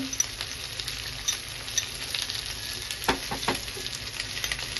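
Cumin seeds and sugar dropped into hot oil for a mixed vegetable and paneer dish produce a continuous close sizzle with small crackles and a few sharper pops around the middle, with no talking.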